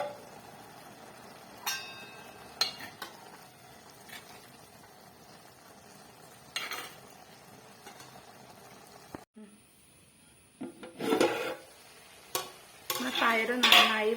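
Coconut, garlic and dried chillies for a sprouted green gram thoran are crushed. Sparse kitchen knocks and clinks lead to a loud, rough grinding burst near the end, with a voice briefly heard.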